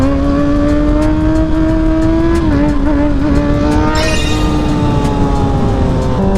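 A 600cc supersport motorcycle lifting into a wheelie, its engine a loud, close, continuous drone whose pitch dips and climbs as the throttle changes, with no talk.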